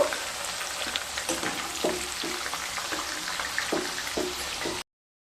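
Beans and capsicum sizzle and crackle steadily in hot oil, with occasional sharper clatters of stirring cutting through the continuous frying hiss.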